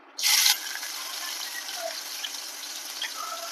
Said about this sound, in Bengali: তেলটা গরম হয়ে গেছে এবার পেঁয়াজটা দিচ্ছি